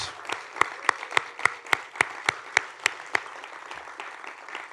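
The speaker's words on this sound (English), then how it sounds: "let's have another big round of applause for all of our award winners" Sparse, slow applause at a college science and mathematics senior awards banquet for the award winners: about a dozen separate distinct claps in a steady rhythm, fairly near and moderately quiet, with no talk.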